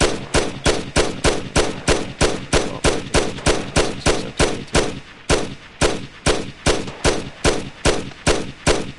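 An Uzi fires single shots in a fast, evenly spaced series of about two dozen close, loud reports, one after another with barely a pause.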